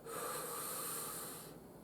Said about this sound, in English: Next is tonic breathing. That's when you inhale through the mouth